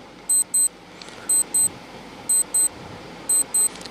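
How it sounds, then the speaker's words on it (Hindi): A countdown timer for a quiz question beeps in quick pairs of high electronic pips, repeating about once a second over faint background hiss. "टाइमर आपकी स्क्रीन के सामने है।"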